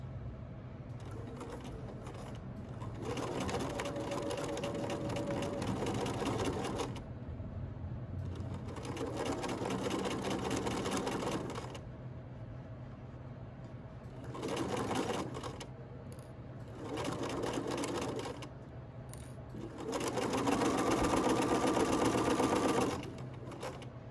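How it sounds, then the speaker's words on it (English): A sewing machine stitches a pocket onto a hoodie through both fabric layers, running in several steady bursts of whirring with short pauses between them, close and clear with no talking. "Make sure that when you're stitching, you're catching exactly where it starts."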